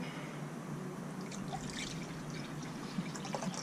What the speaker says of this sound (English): we'll start with 2 cups of water in the MSR pot